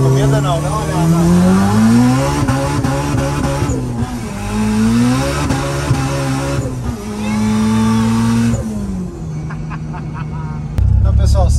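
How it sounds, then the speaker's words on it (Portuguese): A loud turbocharged car engine rumbles and revs, its pitch swelling and dropping in repeated waves, while people talk over it. "Olha o barulho que tá esse carro, meu, dá uma ligada nisso aqui."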